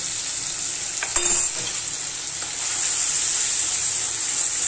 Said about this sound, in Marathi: तेल सुटेपर्यंत चांगलं भाजून घ्यायचं.